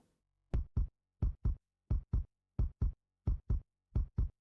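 Footsteps in the Bill & Ted's Excellent Adventure video game thump in paired beats, like a heartbeat, with seven evenly spaced double pulses standing out clearly against silence.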